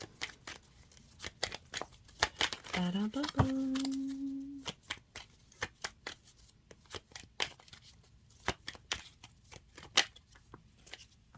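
Tarot cards being shuffled and drawn during a reading, heard as a run of short, crisp riffles and flicks spread across the clip, with a brief stretch of voiced sound in the middle.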